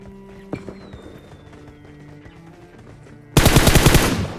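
An M4 rifle in a mobile military battle game fires a rapid automatic burst near the end, loud and close, after a quieter stretch with a single sharp report.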